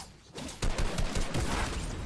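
Rapid video game gunfire from dual pistols in a Gun Game match, a dense burst of repeated loud shots fired close together with no pause in between.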